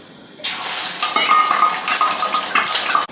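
Oil is stirred in a kadai with a metal utensil before an egg is fried, producing close scraping and clinking of metal on metal over a faint sizzle, starting after a quiet opening.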